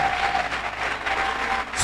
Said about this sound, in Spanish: si va a aplaudir, aplauda con toda su fuerza